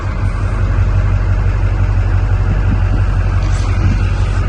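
A Duramax diesel pickup truck engine idles steadily and loudly with a constant low rumble, running alone without any talk.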